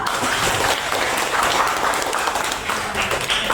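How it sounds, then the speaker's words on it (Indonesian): A classroom full of people clapping steadily after a student presentation, a dense burst of applause at constant loudness throughout. "Dan tepuk tangan dong."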